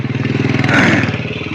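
A motorbike rides up a dusty dirt mountain road in Bajhang, its engine chugging close by in a rapid, even putter that swells briefly in the middle before settling back.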